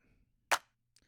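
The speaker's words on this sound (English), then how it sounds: "This is like a dry clap." A single dry, sharp clap sample from a house music production snaps out once, short and crisp with no reverb tail, followed by a faint tick.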